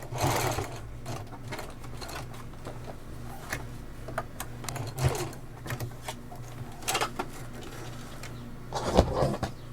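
A sewing machine stitches fabric for a tote bag in short, quiet runs, its rapid mechanical whir rising and pausing in several bursts over a steady low hum, close by and with no talk.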